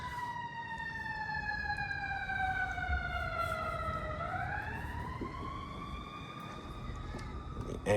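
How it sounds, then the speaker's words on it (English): An ambulance siren wails in the background of an outdoor garden, a faint, distant rising and falling tone that dips and then climbs again over steady ambient noise, with no talking. "The ambulance in the background."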